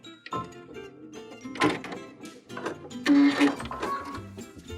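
A sewing machine stitches a dress seam in short uneven bursts of mechanical whirring and clatter, close and moderately loud, with pauses between runs.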